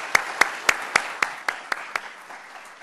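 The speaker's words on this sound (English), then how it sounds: "How about a round of applause for our panel?" Following a panel discussion, a handful of sharp, evenly spaced handclaps ring out, about eight in a row, each slightly softer as the sparse clapping fades away.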